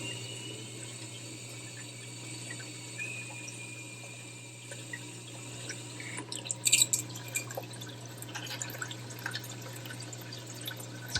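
Water trickles and drips through the plumbing of an aquarium GFO and carbon reactor, a faint steady flow over a constant pump hum that grows busier and more splashy partway through.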